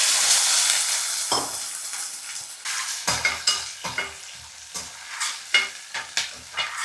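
Shallots, garlic and curry leaves fry in a pan with a steady, close sizzle, broken by repeated scraping stirs and light clinks of a spoon against the metal.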